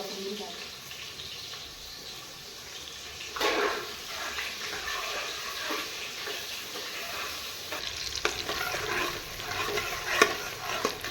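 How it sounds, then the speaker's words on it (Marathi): A pot of water comes to a boil for cooking masoor dal and rice, giving a steady bubbling hiss that swells into louder surges now and then, with some voice in the background. "बघा आधन उकळतं"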